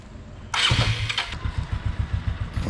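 A Bajaj Avenger 220 Cruise motorcycle in for a full service roars to life about half a second in, then runs close and loud with a steady, throbbing idle pulse and brief revs.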